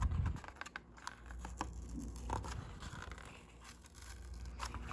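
A heated sticker label is peeled slowly off a squashed cardboard Game Boy Advance box, giving close, continuous crackly rustling and scratchy tearing with scattered small clicks, steady at moderate loudness with no talking.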